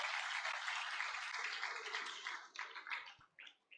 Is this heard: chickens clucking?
no